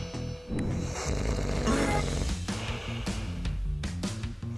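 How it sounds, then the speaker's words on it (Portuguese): Loud, rasping snoring from a person in a classroom, a rough sawing rattle that swells and falls in ragged bursts, close and alone. "Quem está roncando?"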